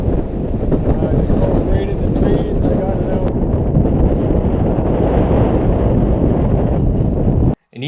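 Wind buffets a Tracker Pro Team 175 TXW fishing boat out on the water, a loud, steady rumbling roar across the microphone with faint sounds of water beneath, cutting off abruptly near the end.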